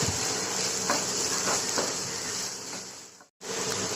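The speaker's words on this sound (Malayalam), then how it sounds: "വലിയ ഉള്ളി. അത് ഇതിലേക്ക് ആഡ് ചെയ്യുക. നന്നായിട്ട് മിക്സ് ചെയ്യുക." Chopped large onions frying and being stirred in a pan, a steady close sizzle with light scraping strokes of the spoon running throughout and a brief cut near the end.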